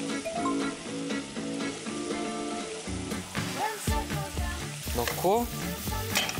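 Chili seed sauce goes into a hot pan with squid and garlic, setting off a loud, continuous sizzle and crackle with stirring scrapes close by, as a voice briefly speaks.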